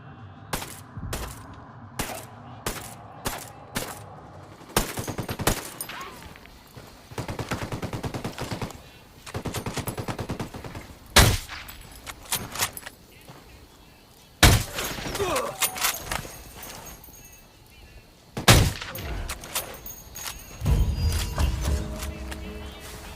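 Gunfire in the video game Ghost Recon Wildlands, with a rapid string of sharp single shots, then scattered bursts of automatic fire and loud blasts spread over twenty seconds against a quieter game background.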